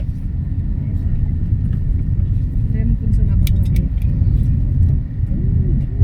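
Continuous road rumble inside a car cruising a highway between Talavera, Nueva Ecija and Candaba, Pampanga, steady and close, with a voice talking over it.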